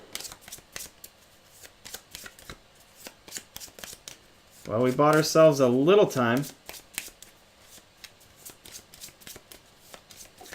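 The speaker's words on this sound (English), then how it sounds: "We'll give these a shuffle." Close, crisp riffle shuffle of 7th Continent playing cards lasting about two seconds amid light table tapping, with people talking just afterward.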